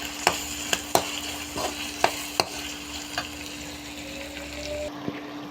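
Snail curry with ginger-garlic paste stirred in a pan, a continuous close sizzle broken by several sharp spoon knocks against the metal at irregular intervals, a faint steady hum running underneath and no speech.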